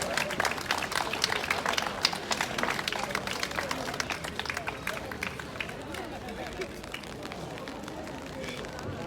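Crowd applause and cheering at a Yorkshire strongman competition sandbag carry, a steady dense wash of clapping from a large outdoor audience, with talking mixed in throughout.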